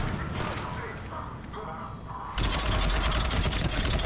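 Rapid automatic gunfire in Mass Effect 3 during a fight against Cerberus forces, a dense continuous burst that swells louder partway through, with game effects mixed in.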